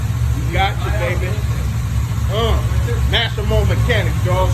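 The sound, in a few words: 750HP Chevrolet Camaro SS engine running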